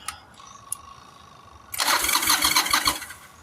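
A 1996 Yamaha Virago 1100 motorcycle: a few faint clicks, then the engine cranks and catches, settling into a loud, lumpy running rumble close by.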